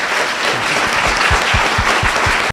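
Steady, dense applause from an audience honouring the second-place team at a university business competition, continuous clapping at close range with no voices over it.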